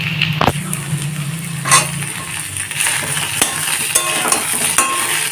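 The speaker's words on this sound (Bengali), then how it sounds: "এখন লাল করে ভেজে নেব আলুটাকে" Potatoes fry in a pan for a fish curry, a steady loud sizzle broken by sharp metallic clinks and scrapes of a spatula against the pan, close up and without voices.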